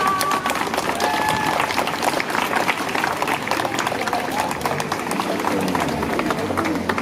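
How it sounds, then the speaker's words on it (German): Applause from a rally crowd greets two speakers at a German protest over a justice scandal and rape culture, a dense, steady wash of clapping lasting throughout, with a few brief tones near the start. "Einen großen Applaus für Emma und Alex"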